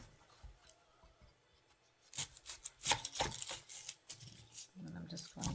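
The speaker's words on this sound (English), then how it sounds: "First I'm going to cut up an onion." A white onion being cut with a kitchen knife: near-silence at first, then a close run of crisp knife strokes, taps on the board and scraping that continue to the end.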